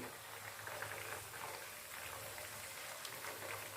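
Chicken tikka pieces fry in a pan with a steady, even sizzle of hot oil that carries through the whole stretch, soft and close with no voices over it.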